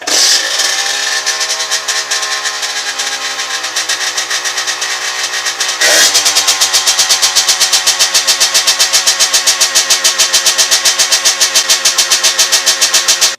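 A dirt bike fitted with a 30 mm PWK carburetor and a 118 main jet cranks and sputters for several seconds. It then catches and settles into a loud, close, rapidly pulsing idle with no voices.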